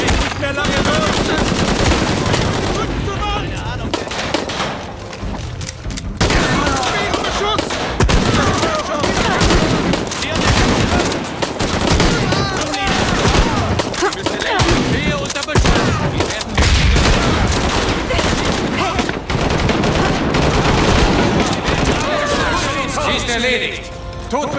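Sustained gunfire fills a jungle combat sequence in Shadow of the Tomb Raider, with rapid machine-gun bursts, single shots and crashes running almost continuously and loud, while voices shout over the fighting.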